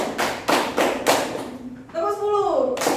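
A class claps in counted bursts during a school lesson, with several quick group claps in a row, followed by a voice speaking over the last beat.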